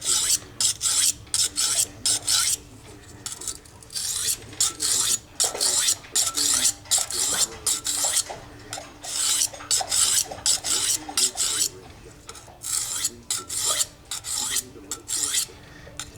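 A knife edge is sharpened on a 400 grit diamond stone with light pressure to refine the burr, a close, rhythmic rasping scrape of steel stroking back and forth over the stone without pause.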